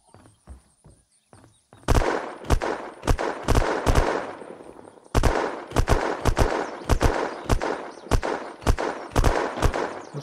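Automatic weapon fire in the video game Unturned: a few sparse single shots give way to loud, rapid bursts of gunfire repeating in quick rhythmic volleys.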